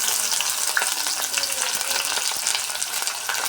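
Onion frying in a pan for a semolina vermicelli upma, a dense continuous sizzle with faint scraping stirs running steadily throughout, close and fairly loud.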